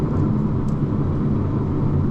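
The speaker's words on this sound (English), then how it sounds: "The sound of this engine." An Aston Martin Vantage engine gives a steady, deep rumbling drone, loud and close and without a break, with no talk over it.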